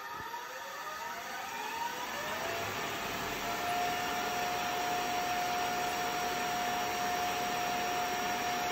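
An SJ-12 surface grinder's wheel spins up to speed, a rising whine that settles into a steady high-pitched hum with airy whir, close and alone.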